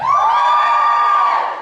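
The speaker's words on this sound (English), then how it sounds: "Girls, give me a cheer." A crowd of girls in a live comedy audience lets out a single high-pitched cheering scream, loud and sustained for over a second before fading, with no talking over it.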